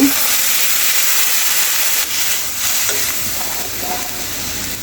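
Water poured over salt, turmeric, chili and coriander powders frying in a pan for a vegetarian pointed gourd dish, producing a loud, constant hissing sizzle and steam throughout with faint stirring knocks, no talk.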